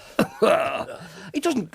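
A voice imitates the raspy cough of a singer in a few short, throaty bursts, with a brief gap between them.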